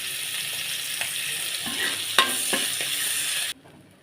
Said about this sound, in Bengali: চিংড়ি মাছগুলো আমি হলুদ লবণ মাখিয়ে হালকা করে ভেজে নিচ্ছি।